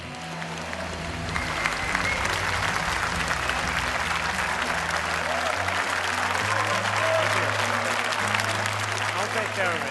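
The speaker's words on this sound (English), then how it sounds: "Give a big round of applause one more time for the MVP" A crowd at an esports event applauds the MVP with loud, sustained clapping and cheering over a low musical hum, building slightly and holding for the full stretch.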